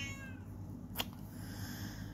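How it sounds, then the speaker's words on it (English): A kitten lets out a single short, faint meow over a steady low background hum. "Kitten is alive."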